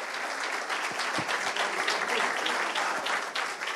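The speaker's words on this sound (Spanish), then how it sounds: "Marina Bermúdez, presidenta de IEDBA, un fuerte aplauso." An audience at an awards ceremony gives a round of applause for two honorees. Many hands clap in a full, steady wash that stays at a fairly even level, with no speech on top.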